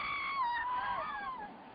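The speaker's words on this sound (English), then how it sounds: "I heard other screams echoing from the farthest end of the palace" Screams echo through a palace in a film scene, several shrill overlapping cries wavering and sliding in pitch, loud and reverberant, with no talking.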